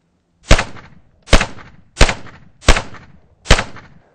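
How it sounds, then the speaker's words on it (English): Five sharp handgun shots fired from an action stance, spaced unevenly about a second apart, each a loud close crack with a short decaying tail. "I want you to shoot 5 shots."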